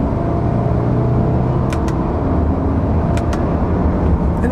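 A 2021 Subaru Crosstrek Sport's engine held in lower CVT gears, its revs climbing: a loud, continuous engine drone over a steady road rumble, with no one speaking.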